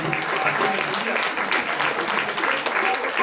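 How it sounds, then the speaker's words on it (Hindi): Sustained applause at a temple Kartik festival katha gathering, a steady, dense clapping from a crowd that fills the whole stretch at moderate loudness. "जरा ताली में कंजूसी ना करो"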